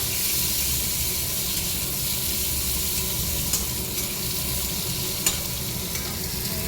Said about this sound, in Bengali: কালো জিরা সম্বাদ দিয়ে শসাটা বসিয়ে দিয়েছি, একটুখানি ভেজে নেবো হালকা